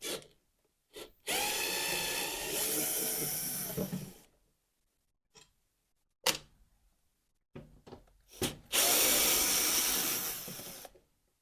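Cordless power driver removing small star-head screws from the fairing of a Honda PCX 150 scooter, two sustained whirring runs of several seconds each, separated by clicks and handling noises.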